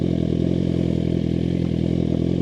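A Suzuki GSX-R1000R sport motorcycle engine held at high revs on launch control, droning steadily and loudly with a rapid stuttering buzz, as if bouncing off the rev limiter.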